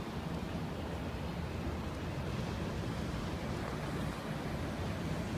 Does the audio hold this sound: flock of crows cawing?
no